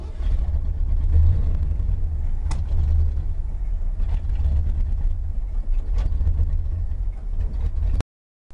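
A 1972 Ford Bronco engine tries to run after its fuel pump is switched on, with the carburetor likely out of adjustment. A steady low rumble fills about eight seconds, then cuts off abruptly at the end.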